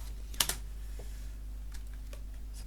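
Computer keyboard keys pressed on a quiet desk, a sharp double click near the start followed by a few faint scattered taps over a low steady hum.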